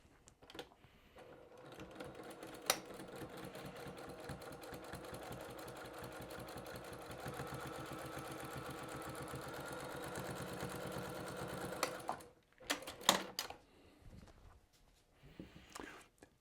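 A sewing machine stitches minky fabric for a weighted blanket in a long, steady whirring run, then pauses and makes a few short bursts and clunks at the end.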